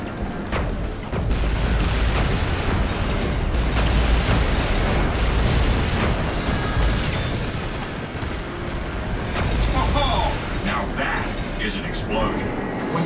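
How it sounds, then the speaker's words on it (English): A weapons cache blows up in the PS3 Iron Man game with heavy, rumbling booms that swell and roll, followed by crackling debris bursts and a second loud blast near the end, layered over continuous game noise. "Explosion. Weapons cache destroyed."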